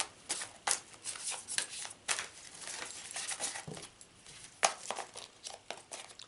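Thick tarot cards are shuffled and handled up close, giving a run of crisp riffling flutters, slaps and papery rustles in uneven bursts.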